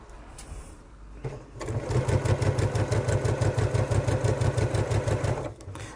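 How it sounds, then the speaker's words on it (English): Sewing machine stitching a bag corner to corner in a tool wallet sewing project, a steady rapid mechanical whirr with even stitch rhythm for about four seconds after a brief start, close and alone. "So I'm just sewing from corner to corner."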